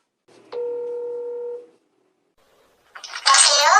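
Telephone keypad tone sounds once as a number is dialed, a steady electronic beep of about a second, then a pause and a short burst of noisy line sound.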